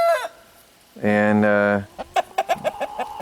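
Chickens in a large chicken run: a loud drawn-out rooster crow, then a rapid series of short clucks close by, with a person talking briefly.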